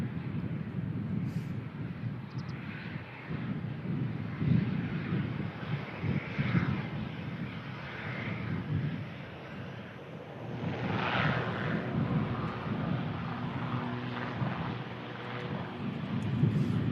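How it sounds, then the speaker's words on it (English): An EasyJet Airbus A320 fitted with sharklets touches down on arrival from Belfast, its engine roar steady and moderately loud, swelling slightly in the middle and toward the end. "EasyJet just touching down from Belfast"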